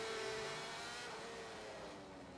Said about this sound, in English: We're riding on board with Peter Hickman now